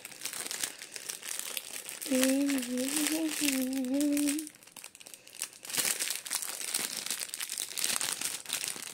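Plastic packaging around a newly ordered pen is unwrapped with continuous close crinkling and crackling, while a voice briefly hums or speaks over the rustling midway through.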